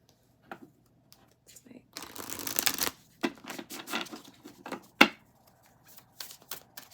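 Crisp riffling of tarot cards being shuffled, a dense burst in the middle followed by shorter rustles and a sharp tap, close and fairly quiet.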